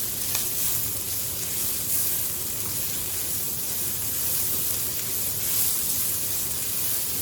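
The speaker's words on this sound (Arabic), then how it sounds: "فبنزل عليه بالفلفل زي ما احنا شايفين كده وبقلبه برضه" Green peppers hit a pan of softened vegetables and are stirred, giving a steady, hissing sizzle throughout with light scraping and no talk.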